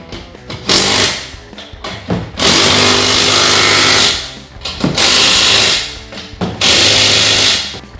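A power tool drives bolts down on an ATV and UTV trailer frame of square tubing. It fires in four loud, buzzing bursts of one to two seconds each, with short pauses and small clicks between them.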